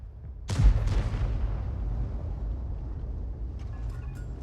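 A single booming tank cannon shot from an E 100 in a video game, loud and close, with a sharp crack followed by a long rumbling decay, no talking.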